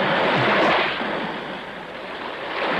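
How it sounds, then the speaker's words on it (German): Sea water rising with the incoming tide around an island, covering posts as high water arrives, a steady broadband wash of waves and surf with wind, fairly close and continuous, swelling slightly at the start and end. "Das Wasser kommt näher und näher."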